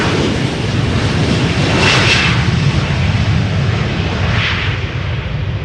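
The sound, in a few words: airplane jet engines on a relocation flight at Schiphol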